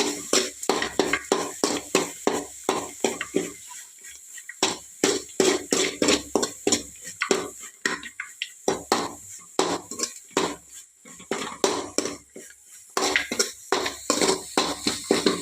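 Mango chitranna stirred and fried in a metal pan, a steady run of close, rhythmic scraping and clinking strokes with a few brief pauses and no talking.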